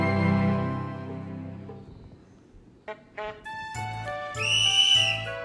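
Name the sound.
train whistle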